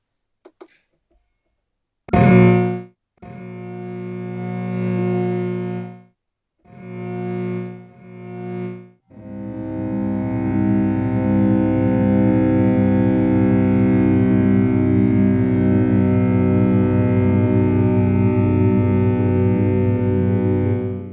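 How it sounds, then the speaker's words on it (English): Warbly, time-stretched string tones from the Gholem string-texture library for Kontakt, played an octave lower, wobble and shimmer; a few short swells start and stop, then a long sustained, slowly fluttering texture takes over. "It's a really warbly sound. So that's the time stretch."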